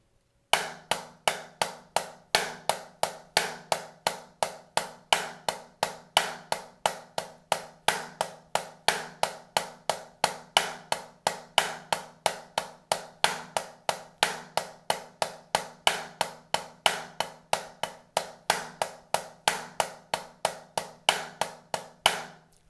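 A steady stream of sharp drum strokes in a quick, even paradiddle rudiment pattern with subtle accents, played alone and fairly close for over twenty seconds.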